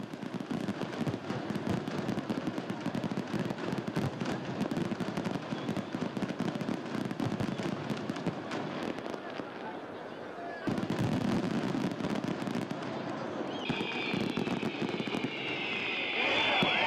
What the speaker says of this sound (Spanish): con el color y el sonido de los fuegos artificiales nos marchamos